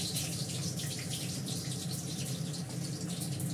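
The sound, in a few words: cumin seeds sizzling in hot oil for tempering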